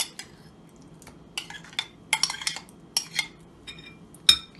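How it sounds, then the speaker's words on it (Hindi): A spoon clinks against a metal bowl as yogurt is added to chicken for BBQ chicken curry, several sharp, bright taps at irregular intervals with quiet gaps between, close and fairly loud. "दही डालेंगे"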